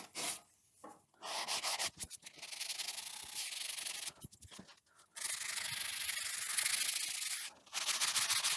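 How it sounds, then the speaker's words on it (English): Hand sanding of a wooden noodle board, a steady raspy scrubbing in long close strokes broken by brief pauses, with no talk. "then I'll finish up with some final hand sanding."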